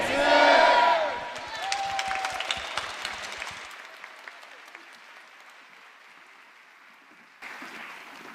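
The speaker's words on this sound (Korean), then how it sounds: "다시 한번 큰 박수로 격려하도록 하겠습니다" A church congregation at a special dawn revival service breaks into loud applause that swells, then thins and fades after a few seconds, leaving the room quiet with faint murmurs.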